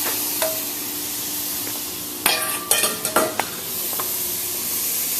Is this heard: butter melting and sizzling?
yes